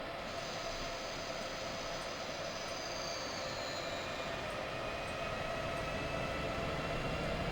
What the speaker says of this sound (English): Push the lever forward halfway to apply power.